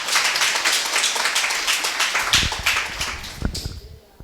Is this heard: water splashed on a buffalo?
no